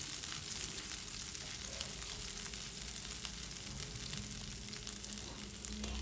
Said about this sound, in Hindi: हरी मिर्चें डाल के हमने 30 सेकंड के लिए दोनों चीज़ों को ज़रा अच्छे से फ्राई कर लेना है